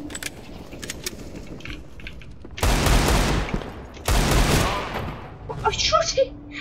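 Desert Eagle pistol fire in Counter-Strike: Global Offensive, two loud, dense bursts of gunfire with softer game clatter and metallic jingles around them, close and prominent.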